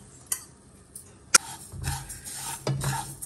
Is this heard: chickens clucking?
no